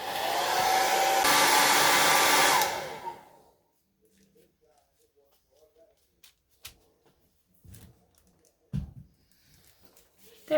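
A heat tool dries paint in a traveler's notebook art journal, blowing a loud, steady whoosh for about three seconds and then cutting off, followed by quiet, scattered handling taps and rustles.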